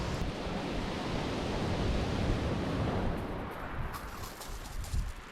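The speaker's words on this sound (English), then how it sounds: "This is a beautiful, sweaty Chesil beach here in Dorset" Waves surging on Chesil Beach in Dorset, a broad roaring wash of surf close by that swells then eases, with wind-like noise throughout and no talking.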